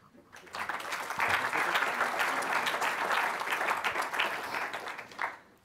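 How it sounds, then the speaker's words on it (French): Sustained audience applause at the close of a technical conference day, thick and even clapping that swells quickly and holds steady for several seconds before tapering off at the end. "je vous laisse les applaudir."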